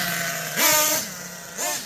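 A small high-pitched nitro engine in an Ofna Twin Titan RC car hums steadily, rising in two brief revs before settling back to a buzzing idle.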